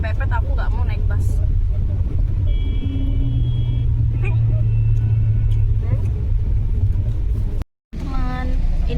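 A bus engine rumbles steadily and low throughout a long overnight ride on a swaying intercity bus, with faint tonal whines, a passing horn, and a brief dropout near the end.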